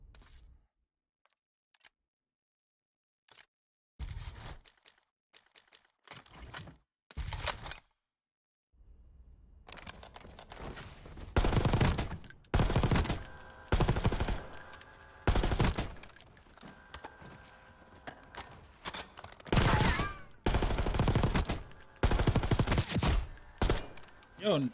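Automatic and single gunfire in a Call of Duty Warzone match plays in rapid bursts and sharp volleys, loud and close, broken by short quiet gaps.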